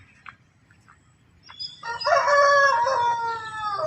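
A rooster on a farm with meat chickens crows once, loud and near, after a few faint clucks and small bird sounds, on a quiet background.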